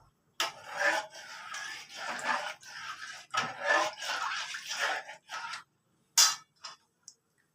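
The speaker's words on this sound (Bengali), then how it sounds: "এবার এটাকে ক্রমাগত নাড়তে থাকবেন, নতুবা তলার দিক দিয়ে ধরে যাবে।" Kheer, a milk rice pudding, being stirred nonstop in a pot: repeated scraping and rubbing strokes in an irregular rhythm, close and fairly loud, ending with a few brief clinks before falling silent.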